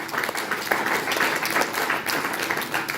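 A church congregation applauds the Lord, a steady wash of many hands clapping together at moderate loudness, continuous throughout with no clear pauses.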